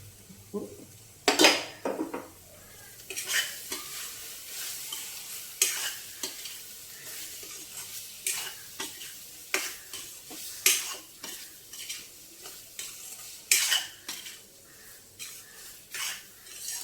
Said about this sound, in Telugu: ఆల్రెడీ మగ్గిపోయిన తోటకూర కనుక తొందరగానే వేగిపోతుంది